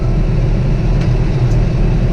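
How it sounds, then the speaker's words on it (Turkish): A New Holland T4.70s tractor drives along a road at about 40 km/h, its engine giving a steady, loud low rumble that holds throughout without a break. "Traktörümüz 40 km hız yapıyor yolda."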